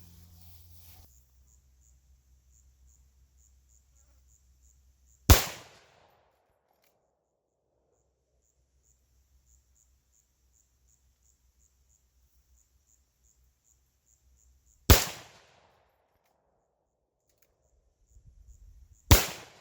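Three suppressed shots from a Marlin Dark 336 rifle firing Federal 150 grain ammunition, each a sharp loud crack with a quick decay, spaced several seconds apart over quiet outdoor background with faint insect chirps.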